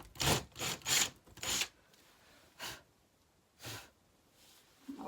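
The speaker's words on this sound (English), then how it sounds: "Maybe I should try and drill a hole." A few short bursts of broadband grinding noise from a drill boring into a bedroom wall, close and fairly loud, separated by brief pauses, with quieter gaps between later bursts.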